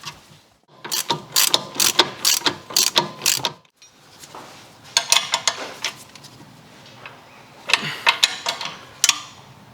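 A ratchet spins nuts onto the anti-roll bar drop link of a VW Scirocco, giving bursts of quick metallic clicking in two separate runs with a short pause between, close and fairly loud.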